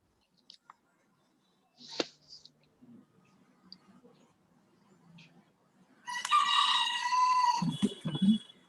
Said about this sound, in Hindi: किसके बैकग्राउंड से इतनी सुंदर बांग की आवाज आ रही है